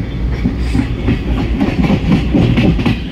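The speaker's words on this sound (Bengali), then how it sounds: "এইবার আমাদের ট্রেন ফারাক্কা ব্যারেজের উপর দিয়ে যাবে।" The Teesta Torsa Express (13141) rolls across the Farakka Barrage, a loud, close, rumbling clatter of wheels on rails heard from inside the train, rhythmic and unbroken.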